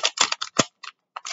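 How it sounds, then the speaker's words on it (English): Scissors snip through paper while a Halloween witch sculpture is being made, giving a quick run of close, crisp cuts in uneven bursts with short pauses between them. "So I'm going to grab my scissors"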